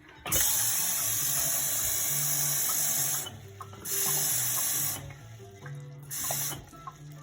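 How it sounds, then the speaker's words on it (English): About two cups of water pour for nopales-infused corn tortilla dough, a steady rushing hiss that runs for several seconds, briefly breaks off, then resumes in shorter bursts before fading, close and without talk. "we're going to go ahead and put 2 cups of water"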